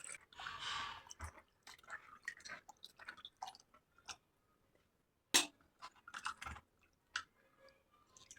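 Skinless chicken pieces being washed in water, giving wet squelching, splashing and dripping sounds in irregular bursts, with one sharp louder splash near the middle and quieter pauses between.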